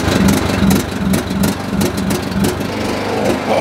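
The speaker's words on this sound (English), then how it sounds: "I get to hop on the ride mower." A riding lawn mower engine runs steadily and close by, a continuous rough mid-pitched drone with small rhythmic fluctuations and no voices.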